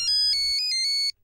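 A mobile phone rings with an incoming call, a bright electronic ringtone of a few quick melodic beeps. It is loud, close and plays alone for about a second.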